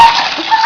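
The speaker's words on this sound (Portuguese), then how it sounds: "Abre um pouco d'água." Water from a hose gushes and splatters into a plastic water rocket bottle as it is filled before launch, a brief loud close splash.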